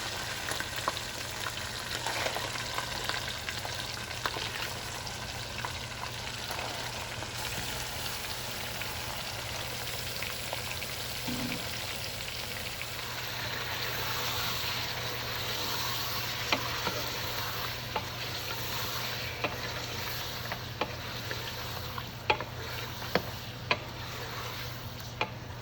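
Mutton frying with garlic ginger paste in a pot for mutton korma: a steady, dense sizzle with faint ticking crackles throughout as the meat is stirred, with no talking.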